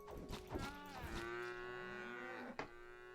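Cows in the survival crafting game Craftopia let out long, drawn-out moos that swell and sustain, with a shorter lowing call near the end. The mooing is clear and close, with no speech.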